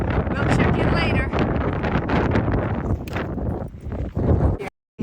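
Strong wind on a mountain summit along the Appalachian Trail buffets the microphone in a continuous roaring rush that briefly drops out near the end.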